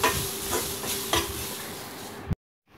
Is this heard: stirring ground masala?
yes